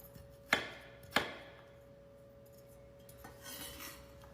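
A knife dicing carrots and other vegetables strikes a cutting board twice in quick succession, with sharp, fairly close knocks. Faint kitchen clatter follows, over a low background hum.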